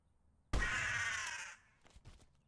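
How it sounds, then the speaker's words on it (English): A crow caws in a video game, one loud, harsh, drawn-out call lasting about a second, followed by faint scattered game sounds. "Oh, wait, the bird."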